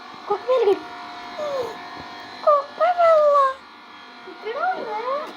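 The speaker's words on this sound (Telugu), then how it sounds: "కుక్క పిల్ల అక్కడే ఉన్నాడు." A puppy whimpers close by in several thin, high, wavering whines spaced by short pauses over faint background hum.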